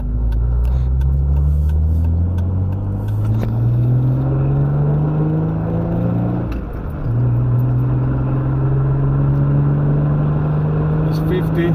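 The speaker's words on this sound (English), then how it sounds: "right here we're gonna push it over 60 miles per hour" A Jeep Wrangler with a camshaft position sensor fault accelerating hard past 60 mph, its engine drone climbing steadily in pitch, dropping briefly at a gear shift, then rising again, loud and close inside the cabin with a voice speaking over it.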